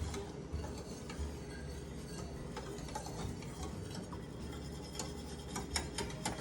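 A spoon scrapes and taps steadily around a pot of thickening homemade chocolate cream pie filling over medium-low heat, soft rhythmic stirring clicks with a faint bubbling undertone.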